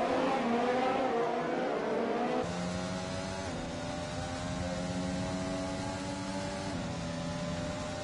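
Sim racing cars on a virtual USA circuit drone and whine as their engines hold high revs, a steady layered roar with a gear shift or two as the cars battle closely.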